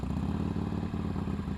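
A Ducati Monster 1200S motorcycle engine runs close by with a brief, steady mechanical thrum and light clatter, moderately quiet and alone.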